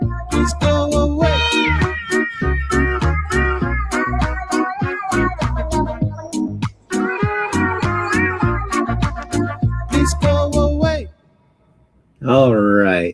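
A cat meows over and over in a long string of loud, drawn-out, pitched cries, close up. A brief silence comes before one final wavering meow.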